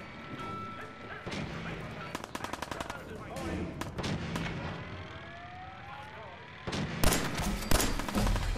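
Gunfire in Fallout 4, a quick rattling burst of rapid shots followed by scattered single shots, clanks and whooshing effects, ending in a louder blast.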